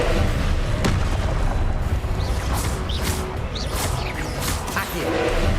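Spell blasts from a Hogwarts video game boom and crash amid whooshing magic effects, dense and loud, with a burst near the start and repeated swishing flares later.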